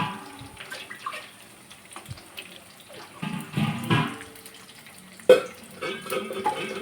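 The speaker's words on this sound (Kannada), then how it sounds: "ಫೋರ್ ಮೆಂಬರ್ಸಿಗೆ ತಕ್ಕಷ್ಟು ನಾನು ನೀರು ಹಾಕ್ತಾಯಿದ್ದೀನಿ ನೋಡಿ" Water splashes and trickles in uneven bursts, with a sharper splash midway, as water is poured into a pot for cooking semiya payasam; no talking.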